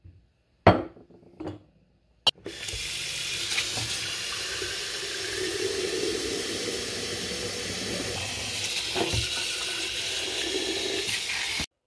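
After a few clinks of glass, a kitchen tap runs steadily, pouring water to fill canning jars for pickling eggs, a close, continuous rushing flow.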